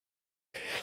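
A single short, sharp sneeze bursts out of silence during a live NBA playoff play-by-play stream, close and fairly loud and lasting only a moment.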